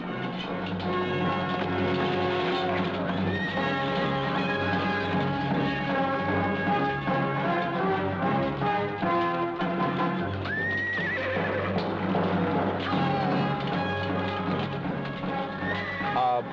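Horses whinny and neigh amid a steady clatter of hooves and movement, dense and continuous throughout, with occasional voices mixed in.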